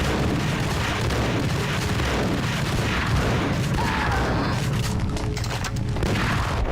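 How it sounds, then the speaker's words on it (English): Dense, continuous gunfire and booming impacts from the Max Payne shooter game fill the mix loudly and steadily throughout, with no pauses between bursts. "Keep shooting, dude."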